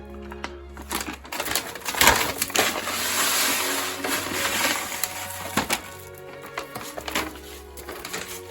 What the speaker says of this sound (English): next I'm adding in this Hoffman bonsai mix